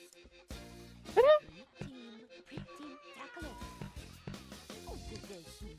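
A cat in The Sims 1 gives a short, clear meow near the start, set against light game music and someone talking throughout.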